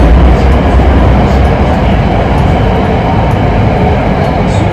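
Loud, steady rumble and roar from inside a moving MRT metro train in Jakarta, a dense continuous low-heavy noise with faint clatter and no distinct talking.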